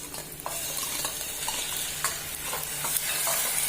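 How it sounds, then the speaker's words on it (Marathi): Salted prawns fry with onions in a pan, giving a continuous sizzle. Repeated stirring scrapes and clinks against the pan at a steady rhythm. "सुंगटां हांवें मीठ लावून दवरलेले आसतले सो आमी मातशें फ्राय करून घेवया."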